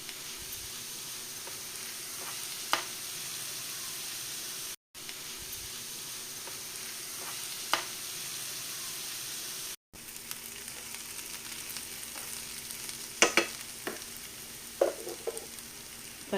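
Onion, green chilli, ginger, garlic and curry leaves frying in coconut oil left over from fried fish, a steady soft sizzle with occasional stirring scrapes and clinks, close and fairly quiet with no speech.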